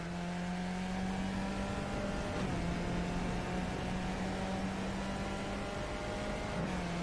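Skip Barber race car engine held at full throttle in the iRacing sim at Barber Motorsports Park, a steady close drone with a sustained tone and a brief pitch dip near the two-second mark, no talk.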